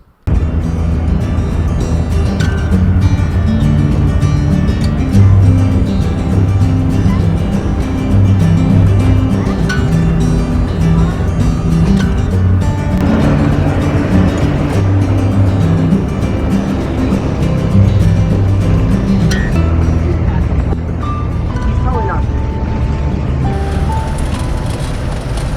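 A car drives along a road toward a small village in a rural area, its engine a steady loud rumble heard from inside the vehicle with continuous road noise and no clear talk.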